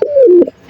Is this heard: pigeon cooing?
yes